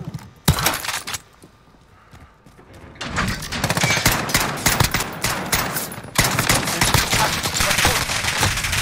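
SKS rifle shots in Modern Warfare, a sharp single shot followed by a quieter stretch, then dense crackling gunfire and shattering debris building to loud sustained volleys.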